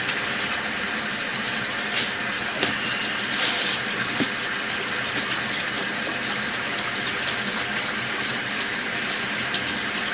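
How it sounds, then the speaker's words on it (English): Water running steadily through a sewer line, a continuous hollow rushing and trickling wash heard close and even for the whole stretch, with no talk. "We'll leave the water running while we pull back."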